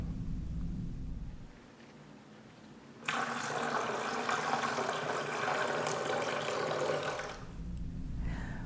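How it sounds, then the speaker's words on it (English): Water poured from a glass pitcher into a bowl, a steady continuous splashing gush lasting about four seconds, close and fairly loud, preceded by quiet room tone. "we invite you to pour some from this glass pitcher into the bowl"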